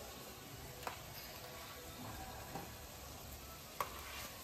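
Dal hisses faintly in hot oil with spices as a soft, steady sizzle. Three light clinks of a stirring utensil against the pan stand out.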